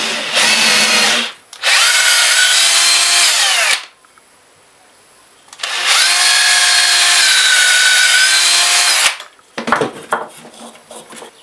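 A power drill bores two small holes in wood, whining loudly in two long bursts separated by a short pause, then a few brief handling clatters follow, with no talking.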